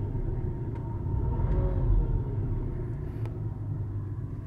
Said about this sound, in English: I'm gonna rev it a little bit there.